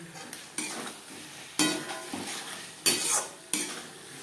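A peas filling stirred in a pan, with close, sharp scrapes and clatters of a spoon in about five separate strokes over a faint frying hiss.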